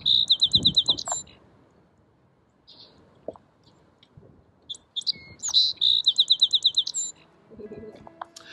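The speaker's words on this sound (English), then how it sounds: "This one is a song sparrow, so let's listen to its song." A song sparrow sings two clear bursts of its song, each a rapid series of bright trilled notes followed by a buzzy ending, close and loud against a quiet background with a few soft rustles.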